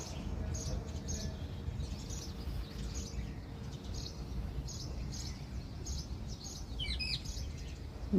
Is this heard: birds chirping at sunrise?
yes